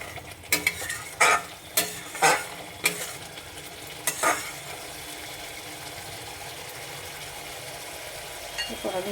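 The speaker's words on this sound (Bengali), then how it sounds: "একটু মিক্স করে দেবো।" Ingredients for a Bengali-style katla fish kalia being stirred in a pan with a little hot water, several sharp spoon scrapes in quick succession over a faint sizzle, then quieter simmering.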